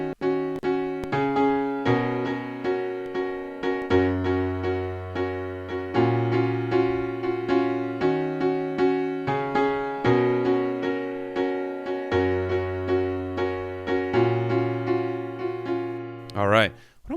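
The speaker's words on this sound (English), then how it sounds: "today we're going to be looking at the piano riff for the intro, verse, and chorus, which sounds like this" A piano plays the intro, verse and chorus riff of a song as a steady, evenly pulsing pattern of repeated chords over shifting low bass notes, close and clear with no talking.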